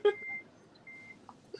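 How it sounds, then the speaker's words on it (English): A microwave beeps in the background, two faint tones spaced a little apart inside a quiet room, with no one speaking. "I'm bad for that microwave beeping in the background."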